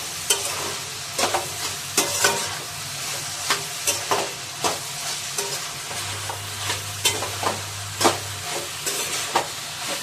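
Mixed vegetables with masala, black pepper and chili powder are stir-fried in a pan for noodles. A steady sizzle is broken by frequent sharp scraping strokes of a spatula, close and clear.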